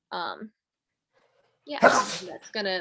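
A single sharp sneeze bursts out close during a speech-filled orchard field talk, framed by brief speech before and after.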